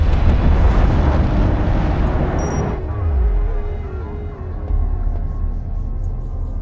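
Turret under attack in the real-time strategy game Homeworld: Deserts of Kharak, with loud, dense rumbling blasts and crackling gunfire that roll on steadily and then ease into a lower battle drone.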